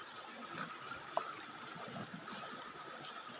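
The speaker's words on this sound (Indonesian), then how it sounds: "Nah, ini sungainya. Langsung dari hulunya." The Siwulihap River flows near its source with a steady, soft rushing and trickling wash, distant and even throughout, with a faint click midway.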